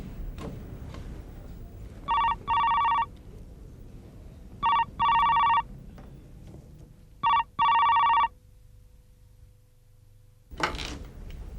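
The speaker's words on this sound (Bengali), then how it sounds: "এই জানো ফোন ধরুন না" A telephone bell rings loudly indoors in three evenly spaced double bursts, each cutting off sharply, with a quiet room tone between rings and a brief bump of movement at the end.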